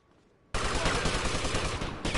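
A loud, sudden burst of gunfire in the video game GTA Vice City erupts after a quiet moment and becomes a continuous, dense stream of rapid shots that fills the scene.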